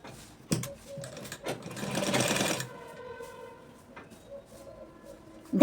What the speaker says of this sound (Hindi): हम सिलाई लगा देंगे।